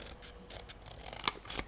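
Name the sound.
scissors cutting paper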